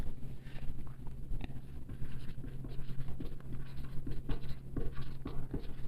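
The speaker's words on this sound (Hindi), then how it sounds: "मैं यहाँ नीचे लिखता हूँ।" Chalk or marker scratching on a board in short strokes and taps, close and moderately loud over a steady low hum, with no talking.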